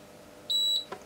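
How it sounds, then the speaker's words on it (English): An Agilent E3646A power supply gives a single clean electronic beep on power-up, a short steady tone up close, followed by a soft click. "Wait for it to beep."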